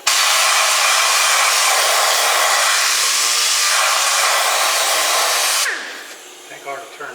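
A dust collection vacuum runs beside a lathe while a spalted red oak bowl is turned. It gives a loud, steady broadband roar that winds down near the end, leaving quieter workshop noise.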